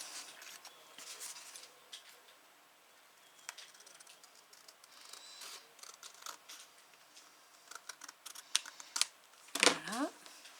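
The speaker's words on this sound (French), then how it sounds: "je vais le faire au ciseau" Scissors cutting paper for a handmade Valentine's star mini album, a series of small crisp snips and rustles at close range, with a sharper rasping cut near the end and quiet talk in the background.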